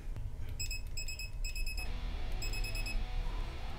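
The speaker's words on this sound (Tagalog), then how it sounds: "Nag-beep naman pero wala siyang na spot weld." A spot welder gives several short, bright electronic beeps in quick bursts, with a continuous low hum from the equipment underneath.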